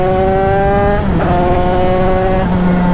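A small 100 cc motorcycle engine, warm after carburetor tuning, runs loud and close, revving up and down in a rising and falling buzzing drone.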